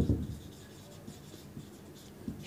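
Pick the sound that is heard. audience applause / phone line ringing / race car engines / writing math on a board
writing math on a board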